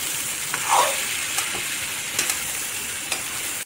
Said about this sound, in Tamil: இந்த ஸ்டேஜ்ல நீங்க நம்ம பொரிச்சு வச்சிருக்க சிக்கனை ஆட் பண்ணிக்கோங்க. ஆட் பண்ணி நல்லா கிளறிக்கோங்க.